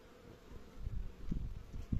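Honey bees buzz in a low, close drone at an open hive being inspected for a queen cell, faint at first and growing busier, with soft bumps and handling noise near the hive.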